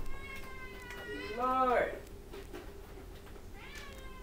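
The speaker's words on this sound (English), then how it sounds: "It's the cat, the cat, the cat, the cat." A house cat meows loudly with a long rising and falling cry, followed by a fainter meow, while someone talks nearby.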